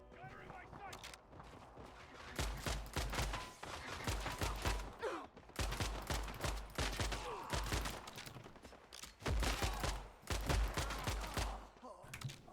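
Rapid bursts of video-game gunfire from the shooter Phantom Fury, crackling in clustered volleys with short gaps, loud and sharp, with a voice talking over parts of it.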